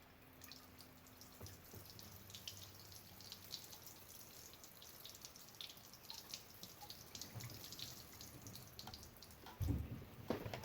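Faint trickling and dripping antifreeze running out of a Volvo Penta 3.0 boat engine, steady and low, with a soft thump near the end and no talking.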